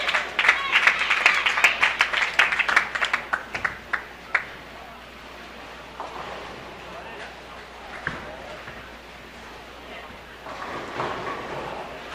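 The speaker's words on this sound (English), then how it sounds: "Hear some cheering from Team Malaysia down the way" Team Malaysia cheering and clapping at a 72-lane bowling center during the women's world championship doubles qualifying, a burst of sharp claps and shouts early, then fading to distant lane noise under a commentator's voice.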